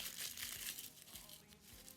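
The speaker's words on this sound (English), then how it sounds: "We're going to gently fold this up and crumple it with the ink on the inside." A sheet of inked, dried tissue paper is folded and crumpled into a tight ball. It makes soft, close, continuous crinkling that stays fairly faint and unbroken for about two seconds.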